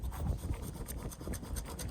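Hard stainless carpet cutting wheel being sharpened and shaped, giving a steady close rasping, rubbing scrape with repeated strokes and no talking.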